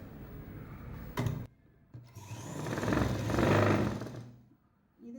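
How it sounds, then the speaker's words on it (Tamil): An electric sewing machine runs a second line of stitching along a lining jacket seam, a steady mechanical whir rising and easing over a few seconds after a brief knock, close by with no talk. "இப்போ நம்ம ரெண்டாவது தையல் போட்டுட்டோம்"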